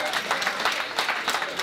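Brief applause from a dinner crowd at a charity auction, fairly loud and steady with overlapping claps and some voices mixed in.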